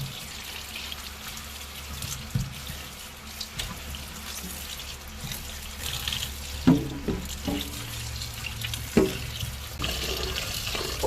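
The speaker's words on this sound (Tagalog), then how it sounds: "Hugasan muna natin ang ating tambo or labong guys." Bamboo shoots are rinsed under a running kitchen tap, a steady hiss of water broken by clattering splashes and handling knocks as the shoots are turned in the flow.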